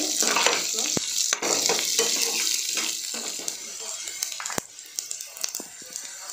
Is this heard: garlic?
yes